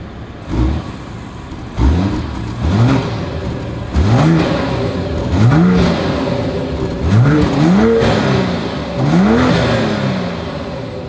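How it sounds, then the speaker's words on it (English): A 2024 BMW X6 SUV exhaust revs repeatedly in short bursts, each one rising and falling in pitch, with a loud, throaty growl close by and no talking. "As always, here is that exhaust clip."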